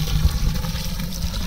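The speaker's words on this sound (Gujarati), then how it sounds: "મિત્રો આપણે નળીથી પાણી વારી મેલું છે આની અંદર બરાબર" Water runs steadily through a hose pipe into a container, a continuous close wash of splashing and trickling with no pauses or voices.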